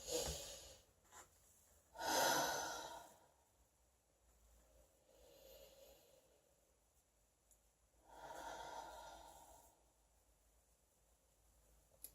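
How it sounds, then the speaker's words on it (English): A person breathing deeply in a quiet room: three slow, audible breaths spaced several seconds apart, close and breathy, with faint stillness between them. "Just breathe through it, right?"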